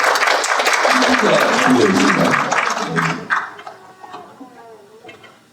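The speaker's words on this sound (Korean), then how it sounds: "큰 박수로 모시겠습니다" An audience claps warmly at an education policy forum panel, with loud, dense applause for about three seconds that then thins into scattered claps and fades out.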